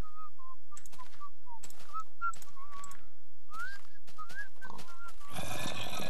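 Someone whistles a wavering, pitch-sliding tune in short phrases with gaps in Minecraft, ending in a brief burst of broadband noise.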